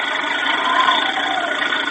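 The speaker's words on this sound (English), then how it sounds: "It's the sound of a tractor." A steady mechanical engine drone hums continuously at an even, fairly loud level, like a tractor running nearby, with no voices.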